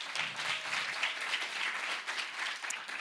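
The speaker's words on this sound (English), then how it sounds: "Please give them our applause." Steady applause from an audience at the opening event of Kayd's 17th Somali Week Festival, honouring the deaf community; dense, continuous clapping fills the whole stretch without a break.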